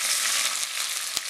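Dried red chillies frying in hot oil for a Kerala-style dried prawn and mango curry, a steady close crackling sizzle throughout with one sharper pop near the end.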